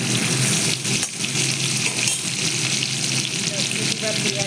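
Cumin seeds and bay leaf fry in oil in a hot wok for an Odia fish curry, a loud, dense, continuous sizzle close up with occasional stirring scrapes and crackles.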